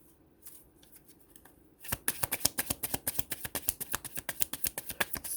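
Tarot cards are riffled and shuffled with a quick, even run of crisp flicks, close and clear, after a few softer handling taps.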